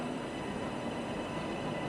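A Zentralbahn train at Meiringen station gives off a steady, dense rumble and hiss of rolling stock, with a faint squeal of wheels, heard continuously and up close.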